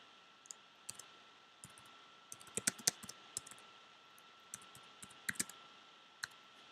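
Quiet, close clicking of computer keyboard keys as an event title is typed, arriving in short irregular bursts of a few keystrokes separated by pauses, with no talk.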